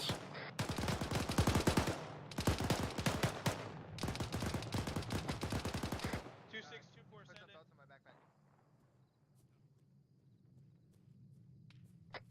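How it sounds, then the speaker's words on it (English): Bursts of rapid gunfire crackle loudly in a military simulation game for about six seconds, dense volleys separated by short gaps, then give way to a low rumbling ambience with faint talk. "Be advised that sniper up on the hill is still taking shots over."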